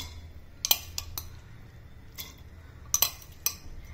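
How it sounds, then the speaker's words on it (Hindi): Washed toor dal being tipped into a pressure cooker for a methi dal, heard as a few sharp metallic clinks and knocks of utensils against the pot, scattered and fairly faint over a quiet kitchen background. "सारी दाल हम कुकर में डाल देंगे।"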